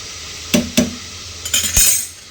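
Potato and onion frying in a pan are stirred with a metal utensil, giving a few sharp clinks and scrapes against the pan over a soft sizzle, close and fairly loud, with no talk.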